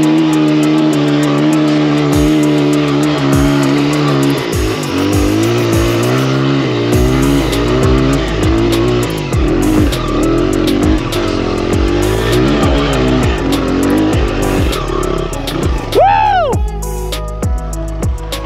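A farm motorcycle ridden hard on a mountaintop enduro bush trail, its engine revving up and down in repeated loud, close surges, with a sharp rising rev near the end.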